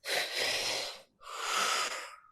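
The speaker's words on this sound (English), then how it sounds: "up into the chest, out through the mouth." Two loud, breathy breaths, one after another with a brief pause between, close and airy, drawn up into the chest and let out through the mouth as a breathing exercise.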